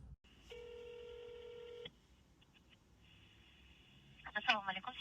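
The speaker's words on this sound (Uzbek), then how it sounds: "Hozir endi 1332 telefon raqamiga qo'ng'iroq qilib," Telephone number 1332 is dialed, heard as a long steady touch-tone beep followed by quieter background and a burst of clattering noise near the end.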